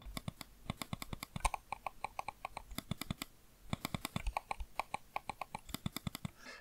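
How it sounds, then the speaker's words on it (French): A Logitech computer mouse clicks rapidly and repeatedly, with crisp, close, sharp clicks in quick irregular bursts and brief pauses, heard alone with no talking. "Vous allez écouter le clic."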